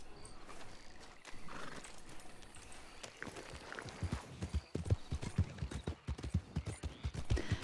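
Horse hooves clip-clop in the video game Red Dead Redemption 2 (RedM), starting sparse and then settling into a quick, steady trot of sharp, close hoofbeats with a brief whinny early on.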